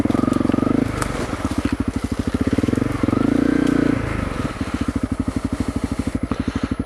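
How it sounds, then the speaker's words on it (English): Honda CRF250L dirt bike pushing through brush on a wooded trail, its single-cylinder engine thumping in a steady close pulse, swelling louder in bursts as the throttle opens and easing back between them. "running over the brush."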